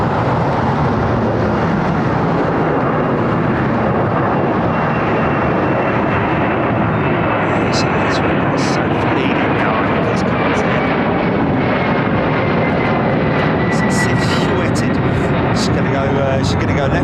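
Jet engines roar as an airliner departs Heathrow runway 09R, a loud, continuous broadband rumble and whine that dominates throughout, with people talking faintly underneath.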